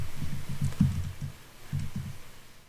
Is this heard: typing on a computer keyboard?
yes